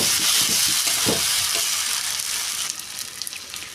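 Tomatoes drop into potatoes frying in a pan for aloo dum, with a steady loud sizzle and a few scraping stirs of a spatula, the frying easing slightly toward the end.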